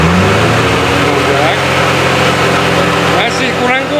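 LPG-converted car engine, run without a converter kit and with its carburettor left unmodified, held at steady high revs under full throttle, loud and close throughout, with a brief dip and faint rising tones near the end.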